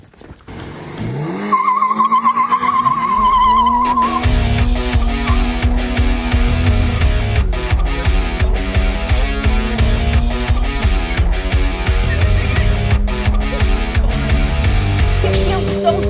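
A 2022 Toyota GR86 sports car is driven hard on a race track, its engine revving loud and close through the gears as tires squeal, with steady roaring throughout and brief voices underneath.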